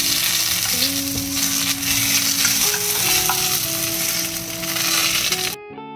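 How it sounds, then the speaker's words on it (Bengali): Garlic frying in butter in a wok: a loud, continuous sizzle with stirring scrapes, close up, ending abruptly with a brief tonal hum once the frying sound cuts out. "কড়াইতে এবার প্রথমে"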